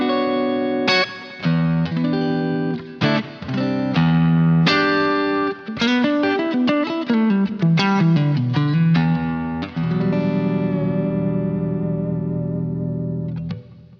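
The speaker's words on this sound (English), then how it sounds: "And now the neck pickup, put the coil tap in." PRS DGT electric guitar on the neck pickup with coil tap engaged, clean chorus-tinged single notes and chords rising and falling, ringing sustained chords toward the end, played alone.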